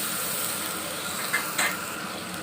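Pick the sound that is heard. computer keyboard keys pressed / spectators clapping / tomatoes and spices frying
tomatoes and spices frying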